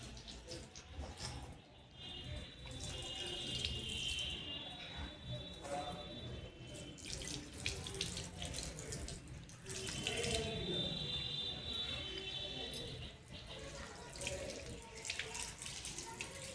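Tap water runs steadily into a sink while a child washes face and brushes teeth, a continuous splashing stream close by, with faint voices now and then.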